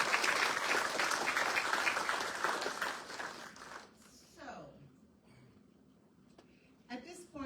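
An indoor audience at a 2025 awards ceremony breaks into loud, dense applause for the 2024 honorees, which fades out after about four seconds and leaves a quieter room with scattered murmurs.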